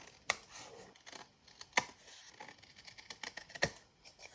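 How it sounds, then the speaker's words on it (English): Scissors snip excess paper off a handmade vintage gift card holder, giving three sharp, close cuts spaced about a second and a half apart over a quiet background. "I can just snip these off."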